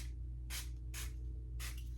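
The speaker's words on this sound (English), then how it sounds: "4 little sprays and you kind of just rub it in" A dollar store hydrating face mist sprays four times in quick succession, each a short soft hiss close to the microphone over a low steady hum, with no talking.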